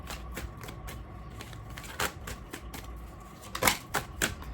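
Tarot cards being handled and one drawn from the deck, a series of close, sharp slaps and papery flicks, with a quick burst of card snaps toward the end.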